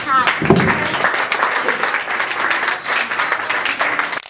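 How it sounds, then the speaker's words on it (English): A crowd breaks into steady, dense applause that carries on for several seconds, with a brief voice near the start. "Let's give a big clap"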